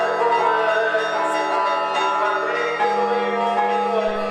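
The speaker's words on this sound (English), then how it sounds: "the streets were filled with prayers and the ringing of the church bells" Church bells ring with a sustained, overlapping metallic resonance, a continuous chiming wash with a fresh strike partway through.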